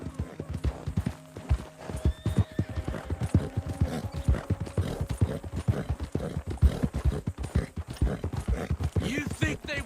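Horse hooves clip-clop in a steady rapid rhythm in the Red Dead Redemption 2 video game, with a horse whinnying early on and voices talking over the hoofbeats throughout.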